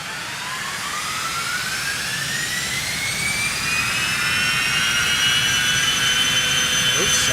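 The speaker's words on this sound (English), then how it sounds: "Dude, those Citation 10 sounds." Citation X jet engines in a flight simulator game whine with rising tones that climb and sustain, a loud steady roar building over several seconds, with no talking.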